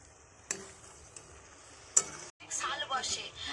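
A spoon quietly scrapes and stirs boiled grated coconut and sugar in a pan over low heat, making filling for pitha. Sharp clicks of utensil on pan cut through, followed by a busier stretch of stirring near the end.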